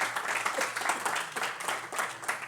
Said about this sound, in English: I think it will deserve some of the round of applause